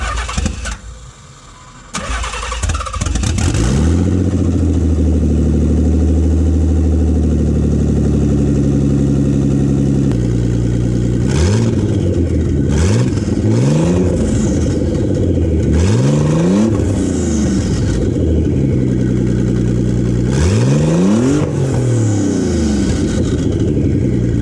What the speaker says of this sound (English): we should do a little cold start. Open downpipes